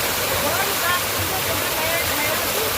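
Water flows steadily from a spring-fed village water source in a large hill village, a continuous close rushing and splashing that stays loud and even throughout.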